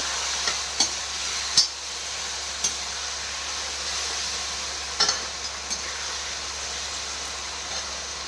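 Food being stirred and sautéed in a pan, a soft continuous sizzle with sparse sharp clicks and taps of a spoon against the pan, close and fairly quiet, no voices.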